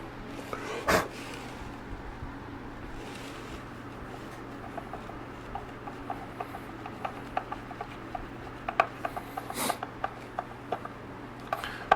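A screw is driven by hand into a Coleman heater box, giving a quiet, steady scraping and rubbing with irregular small clicks and ticks that grow more frequent toward the end.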